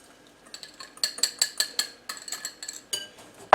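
A spoon mixes crumbs with melted butter in a bowl, a run of about a dozen rhythmic clinks and scrapes against the bowl, close and fairly crisp, starting faint and ending with a louder knock.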